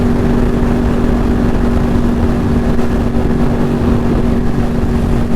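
A Yamaha R1 sport bike drones loudly and steadily at speed, a constant engine hum with a fixed tone layered over wind rush, no voices present.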